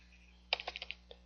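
Rapid run of about six computer keyboard keystrokes, close and crisp, then one last isolated tap after a short pause, over a steady low hum while someone types a value into an Excel worksheet.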